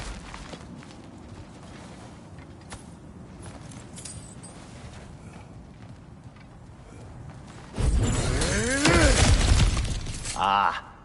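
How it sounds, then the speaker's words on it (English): In the God of War Ragnarok video game, cracked ground is smashed through; after a stretch of low ambient rumble, a loud crunching burst of breaking rock and debris erupts near the end. "back to smashing through things for fun and profit."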